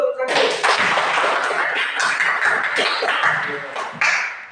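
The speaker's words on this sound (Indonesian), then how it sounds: "Kasih tepuk tangan dulu." A classroom of students clapping hands together in a dense, steady burst of applause lasting several seconds, with a teacher's voice heard along with it.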